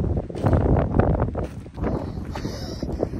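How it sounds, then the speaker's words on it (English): Strong wind gusting at about 39 mph across open rocks outdoors at sunrise, a loud continuous roar and buffeting against the microphone with no pauses. "the wind seems to be picking up to 39 miles an hour"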